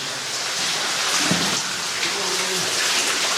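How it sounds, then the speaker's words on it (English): Water runs and splashes steadily inside a wet underground mine tunnel during runoff, a constant rushing wash with faint low knocks, no speech. "There's a lot more water running in here."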